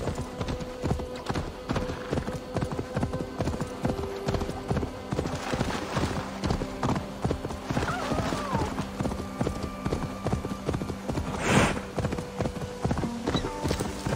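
A horse's hooves in Assassin's Creed Valhalla clip-clop in a quick, steady gallop rhythm close by, with a brief snort or whinny near the end and low ambient game sounds beneath.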